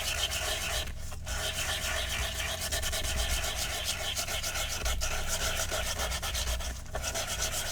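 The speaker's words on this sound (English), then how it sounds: "it has one of these sanding discs on it, and we're just going to be going over the cardstock" A sanding disc scuffs across craft cardstock in a continuous, close, raspy rubbing that pulses slightly with each pass. No voices are heard.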